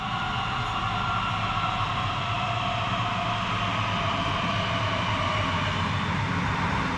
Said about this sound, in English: Here comes my train now. It's formed of some Swedish type X31K electric units,